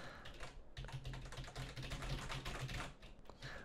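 Fingers type on a Speedlink Ferus gaming keyboard with soft, membrane-feel keys, giving a quick, irregular run of close clicks and taps with no talking.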